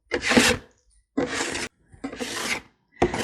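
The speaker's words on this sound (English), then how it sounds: "I'll put a little medium down, and I spread it with a trowel." A trowel spreads painting medium across a surface ahead of earth pigment, making four separate dry, raspy scraping strokes with short silent gaps between them, close and fairly loud.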